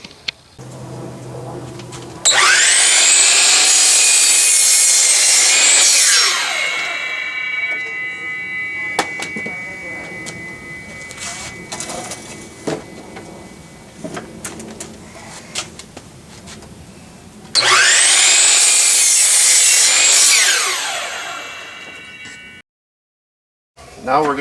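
A power saw cuts wooden boards for an enclosed raised garden bed, two loud close bursts of whining blade noise several seconds long, with quieter clattering and handling of wood between them.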